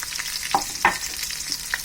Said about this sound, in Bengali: এখন একটু হালকা ভাজা হলে তাতে যাতে পানি অ্যাড করবো।